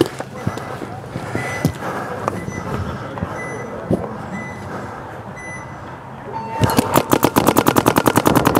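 Paintball markers firing at an outdoor tournament event, scattered pops under shouting and field noise, then a fast, loud, rhythmic volley of shots near the end.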